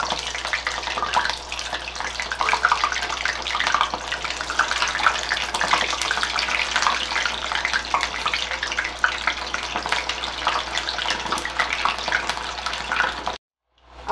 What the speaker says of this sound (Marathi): ओके, तर आता आधी बटाटा तळून घेते